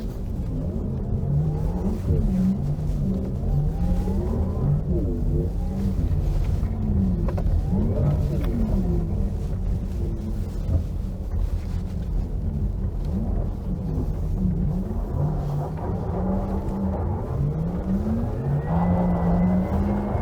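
Porsche Taycan 4S electric car in Sport Plus mode weaving through a slalom, heard from inside as a continuous whining motor tone rising and falling with each turn over steady road and tyre rumble.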